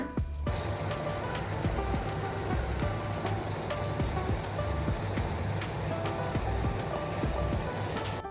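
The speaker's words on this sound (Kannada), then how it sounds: "ಈಗ ಇದು ಚೆನ್ನಾಗಿ ಬಾಯ್ಲ್ ಆಗಲಿ" Instant coffee powder mixed with liquid boils in a pot, making a steady close crackling, bubbling sizzle that stays even and continuous throughout.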